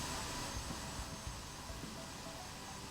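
A Cirrus SF-50 jet in the airport management game Airport CEO, heard as a steady, fairly quiet engine whine and broad roar with no speech.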